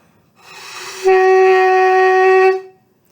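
A single sustained low, buzzy tone from a saxophone mouthpiece, a sign of faulty embouchure, held steady for about a second and a half, close and loud.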